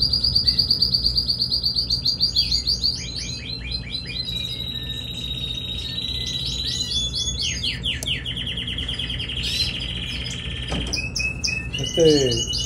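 Canary chicks chirp busily while being hand-fed formula, a dense stream of high, rapid tweets close to the microphone, loudest at the start and continuing steadily throughout.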